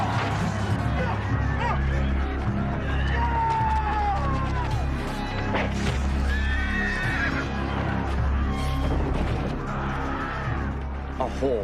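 A horse whinnies in an animated battle scene from Shakespeare's Richard III, with a crowd murmuring and a low steady rumble running throughout.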